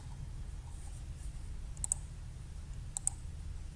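A computer mouse clicks in a web price calculator, with two quick double-clicks about a second apart, crisp and close over a faint hum.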